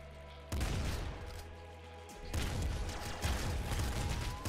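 Gunfire in the video game Nuclear Throne, played with an ultra mod: dense bursts of synthetic shots and booms that kick in abruptly, cut out briefly, then resume in a loud, continuous fusillade.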